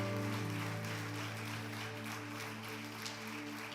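Congregation applause in a church service, broad clapping that sits under a sustained low musical drone, fairly faint and even throughout.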